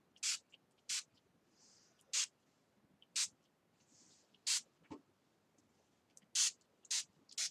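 Green spray paint hisses from a can onto a mixed media art piece in about eight short, sharp bursts spaced irregularly apart, close and fairly loud against a quiet room.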